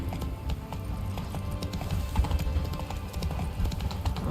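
Roach, Geralt's horse in The Witcher 3: Wild Hunt, moves at a steady gait, giving a continuous rhythmic clip-clop of hooves over low ambient game sound, close and moderate in level, with no voices.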